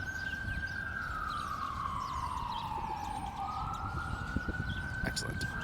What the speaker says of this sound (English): Now we got some nice siren action as well in the background.